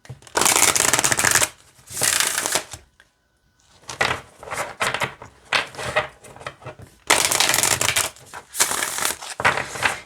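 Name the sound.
shuffling a deck of cards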